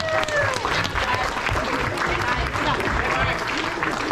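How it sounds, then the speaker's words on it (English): Banquet guests at an end-of-season high school cheerleading celebration applaud the varsity team in a steady, even round of clapping that lasts the whole stretch, with a few voices mixed in. "This is our whole varsity team, so we can give them all a round of applause."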